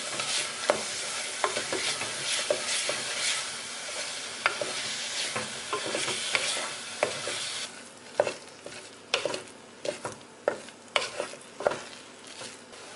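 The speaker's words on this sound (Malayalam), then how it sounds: "നന്നായിട്ടൊന്ന് വഴറ്റിയെടുക്കാം." Chili, pepper and masala powders sautéing in a pan for chicken biryani: a steady close sizzle with repeated scraping stir strokes, the frying quieter and the stirring more distinct in the second half.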